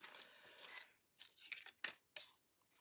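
Scissors snip through a paper tag while decorating an accordion journal, a few quiet, close crisp cuts in an irregular rhythm.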